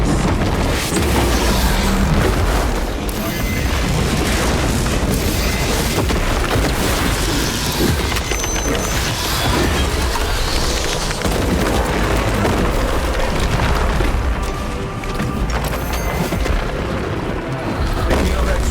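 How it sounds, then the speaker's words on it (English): Melter charges explode against alien swarms in the video game Space Marine 2, a loud, unbroken wall of booming blasts and rumbling battle noise layered with gunfire for nearly twenty seconds. "Place melter charges on the Xenos swarm spots! Immediate strikes!"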